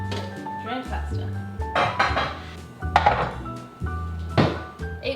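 An 8 by 11 baking pan is handled in a home kitchen, giving close clanks, knocks and scraping thuds in uneven bursts, with a voice talking alongside.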